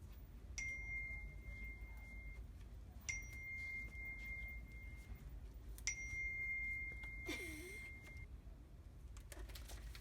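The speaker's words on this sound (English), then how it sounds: "a bell was going off in the distance" A bell rings in the distance at a park, three faint, evenly spaced rings with a sustained tone over steady outdoor background hiss.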